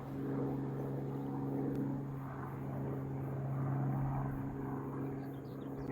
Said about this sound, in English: Got some aeroplanes flying overhead as well.